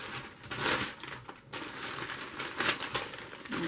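Paper being handled and crinkled at a craft table while preparing a sheet to glue into a fall-themed junk journal; soft, close rustling and crumpling bursts, with a sharper crinkle near the end.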